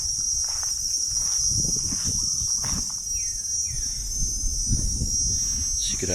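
A steady high-pitched drone of cicadas buzzes continuously throughout at a riverside hotel in Kampot, Cambodia, with soft low rustling and movement underneath.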